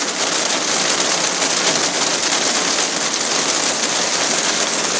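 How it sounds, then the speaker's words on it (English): Large hailstones pelting down hard outdoors, a loud, dense and continuous drumming clatter that stays steady throughout, with no voices. "There's flipping great hailstones coming down now."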